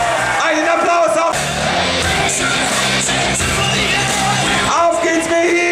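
A crowd at a superheavyweight stone-lifting contest on the Lechfeld claps, yells and whoops for a lifter, loud and sustained throughout, with shouting voices over the clapping.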